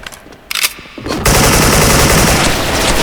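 Skull AK74 gunfire in the SF (Special Force) online shooter, with a few short bursts followed by a loud, sustained stream of rapid automatic fire. No voices are heard.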